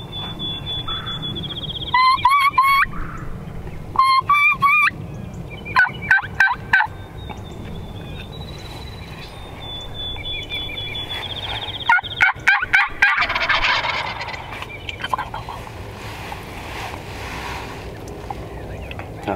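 Wild yearling turkeys gobble outdoors during an Illinois turkey hunt. Several loud, close gobbling bursts come in quick clusters, separated by quieter stretches of steady outdoor background and a thin, high, sustained tone.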